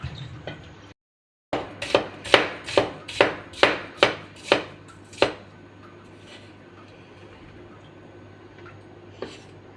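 A knife chops onions and chilies on a board for a traditional Rajshahi potato curry (aloo ghati): about nine crisp, evenly spaced strokes in quick succession, close and clear, then quiet with one last faint tap.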